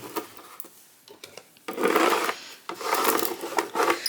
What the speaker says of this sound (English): Scrape that down.